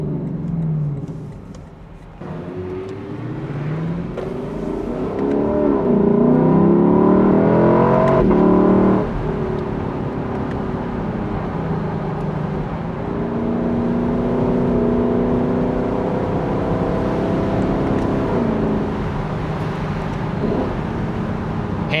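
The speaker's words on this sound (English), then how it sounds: "provides a nice crisp burble out the back of the car" A 2025 Lexus LC 500 convertible V8 revs and burbles from its exhaust on rev-matched downshifts above 3,000 RPM, heard from inside the car as the engine rises and falls in loud, close swells.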